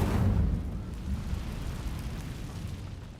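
A fire spell cast in Hogwarts Legacy, Incendio, erupts with a deep, rumbling fiery burst that swells at the start and then slowly fades into a low roar.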